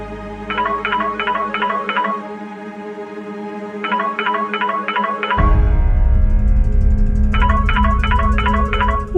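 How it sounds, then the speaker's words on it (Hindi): Repeated bursts of electronic keypad tones sound in quick groups, like a phone being dialed, over a synthetic musical backing that swells louder partway through. "गार्गी को फोन करते हैं।"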